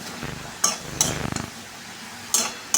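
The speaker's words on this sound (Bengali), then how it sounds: "ভালো করে নাড়াচাড়া করে আমি এখন সবজিটা রান্না করে নেব" A cooking pot of vegetable curry with turmeric, salt and coriander is stirred with a metal utensil, giving a few sharp clinks and scrapes against the pot at an uneven pace, close and fairly quiet.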